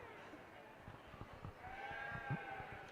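Sheep bleat faintly at a junior sheep show in Humboldt, Saskatchewan, a few wavering calls rising over a murmur of crowd noise and soft talk in a busy show barn.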